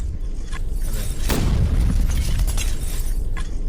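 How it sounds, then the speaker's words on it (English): A big explosion effect made for live shows, played in reverse to close an album track: a loud, steady broadband rush that swells to a peak about a third of the way in, then carries on with no voices. "I just used this explosion effect that I had made for my live shows"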